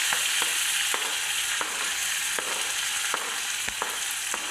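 Curry leaves and spring onion sizzle in hot oil, a steady broadband frying hiss with brief crackles and pops at intervals, close and continuous throughout with no talking.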